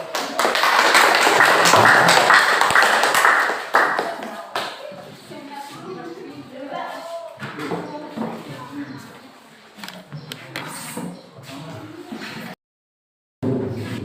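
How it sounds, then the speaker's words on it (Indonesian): Students in a classroom clap loudly for a few seconds after the kinesthetic group's presentation. The applause then fades into a teacher talking, with faint shuffling noises in the room. "Beri aplaus untuk kelompok kinestetik."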